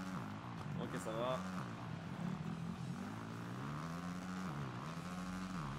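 Supercross motorbike engine in the Supercross 2020 game at Anaheim, a continuous buzzing whine rising and falling with throttle while someone talks over it.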